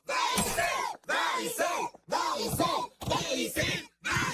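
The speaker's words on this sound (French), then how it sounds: "Mais qu'est-ce qu'ils hurlent, ceux-là?" A crowd of cartoon voices yells outside in rhythmic, chant-like bursts, loud shouting repeated about once a second with short gaps of silence between each outburst.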